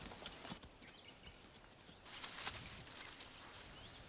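Horses walk on a horseback safari in a South African nature reserve, their soft, irregular hoof clops faint and spread out against an open outdoor background, with a burst of faint bird chirps partway through.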